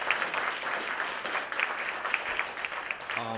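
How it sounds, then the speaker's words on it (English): A town hall audience at a legislative reception breaks into moderate, continuous applause, a dense patter of many hands sustained throughout at a fairly soft level, without speech. "So if we can give them a round of applause for joining us,"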